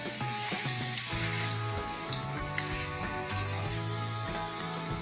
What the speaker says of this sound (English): And I'm going to mix this well and fry it again for 2-3 minutes.